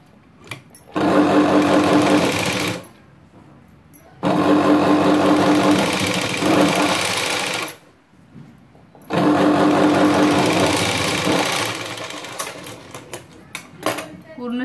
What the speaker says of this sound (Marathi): अशी साइडने शिलाई मारून घ्यायची